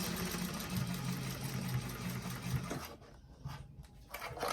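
Sewing machine running steadily while stitching a side piece of a bag, slow and even, then stopping near the end with quieter handling sounds after.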